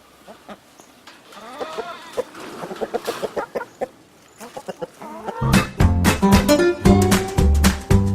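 Chickens on a backyard farm, including Buckeye hens at a chicken house, cluck in a loose series of short calls, followed by a louder burst of overlapping squawks and clucks from birds close by.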